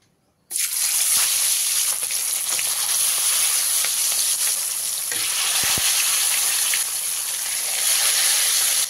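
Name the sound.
katla fish pieces frying in hot mustard oil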